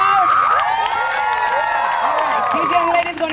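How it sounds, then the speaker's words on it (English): A loud crowd cheering for a team at a Native American festival, many voices shouting and whooping together with some clapping, sustained and close. "you guys have to cheer really loud for Lightning Spear"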